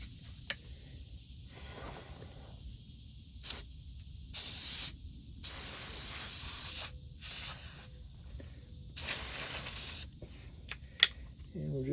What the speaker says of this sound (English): right now I'm just going to spray a little degreaser.